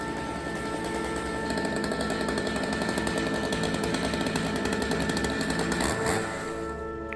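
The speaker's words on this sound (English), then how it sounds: "really enjoying cutting this beautiful English oak with the STIHL MS881" A STIHL MS 881 chainsaw on a Logosol F2+ mill cuts steadily through English oak, giving a loud, continuous buzzing engine drone with a rough rasp that swells slightly before easing near the end.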